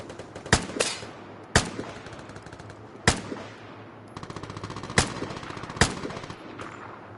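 Sharp in-game gunfire from a video game shooter, several loud single shots spaced about a second apart, then a rapid automatic burst, all over a steady background hum with no talking.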